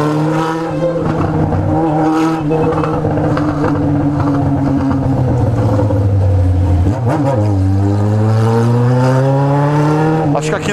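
A remapped Yamaha XJ6 motorcycle engine revs loud and close while riding, its pitch sinking steadily and then climbing sharply again, with voices talking faintly under it.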